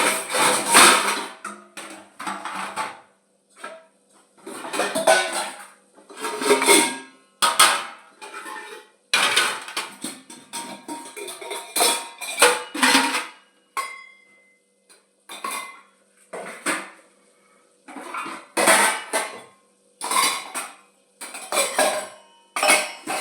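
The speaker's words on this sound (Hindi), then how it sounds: "मैं बर्तन मांज रही हूँ।" Dishes, pots and utensils being scrubbed and washed by hand, with repeated clattering metal knocks, scraping and rubbing in irregular bursts with brief pauses, close and fairly loud.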